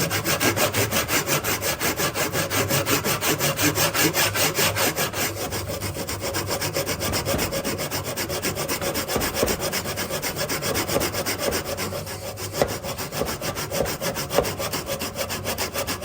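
A hand saw cuts down the centre of a wooden joint with steady, rhythmic back-and-forth strokes, close and even, rasping through the wood for the whole stretch with no talking.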